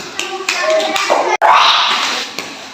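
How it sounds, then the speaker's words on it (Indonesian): Classroom of primary school children clapping after a correct quiz score during a physical education lesson, a dense, loud patter of many hands with a short break midway, voices mixed in. "Tepuk tangan"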